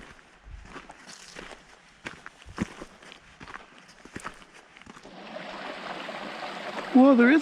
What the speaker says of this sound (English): Well, there is a little water in the brook.